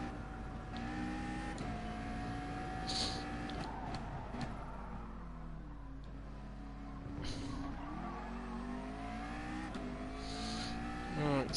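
A McLaren race car in a GR3 racing game at Spa, its engine droning steadily at moderate volume with gear shifts and rising and falling pitch sweeps, while a voice talks faintly underneath.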